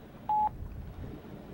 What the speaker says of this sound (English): Right now I'm trying to call Nash